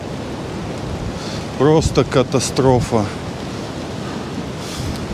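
Storm waves and strong wind on the shore at Anapa, a constant broad roar of surf and wind buffeting the microphone, with a person's short excited exclamation cutting through in the middle.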